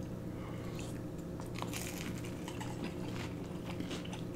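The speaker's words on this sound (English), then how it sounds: "These are so good and crunchy." Crisp crunching and chewing of crunchy sushi rolls, close up and steady, with repeated bites over a low background hum.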